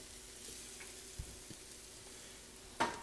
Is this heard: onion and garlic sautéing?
yes